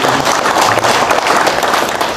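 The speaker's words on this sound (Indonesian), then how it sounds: "Beri tepuk tangan buat Kahmi Jaya yang sudah berinisiatif" Applause from an audience at a political gathering for the Kahmi Jaya group, a dense, steady clapping that fills the whole stretch at close range, loud and unbroken.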